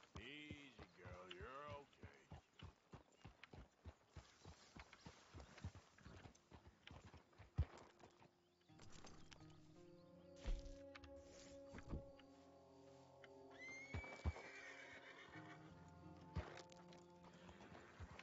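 Horse hooves clip-clop in a steady trotting rhythm in the video game Red Dead Redemption 2, later slowing amid ambient game sounds with a faint whinny, while a person talks over parts of it.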